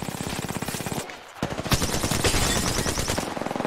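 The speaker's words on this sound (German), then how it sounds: "Oh, noch mehr Schüsse." Rapid machine gun fire in the video game Apex Legends, with dense loud bursts of automatic shots, one brief gap, then sustained firing with overlapping shots.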